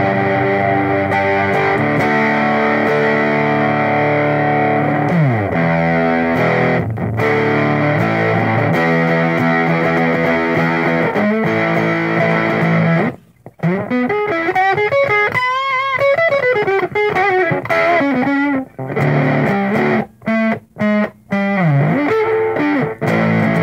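Electric guitar run through a homemade distortion pedal with a fuzzy, Big Muff-style tone: loud sustained distorted chords, then choppier riffs and single-note bends with short pauses, no talking.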